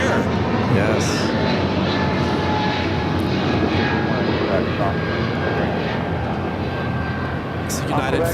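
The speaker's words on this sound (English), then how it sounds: "United Flight 2397 headed to Newark on this 777-200ER" A United Boeing 777-200ER jet bound for Newark roars loud and close at Los Angeles International Airport, a broad steady rumble sustained for the whole stretch with slight swells in intensity.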